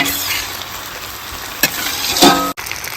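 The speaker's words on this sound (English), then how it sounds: "Now we're gonna add green onions to our stir fry" Green onions sizzle and crackle in a hot stir fry for restaurant-style noodles, a loud steady frying hiss with a couple of sharp stirring clanks near the end.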